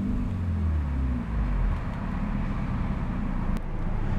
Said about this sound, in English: A much deeper and much more bassy rumble from that 2-liter 4-banger.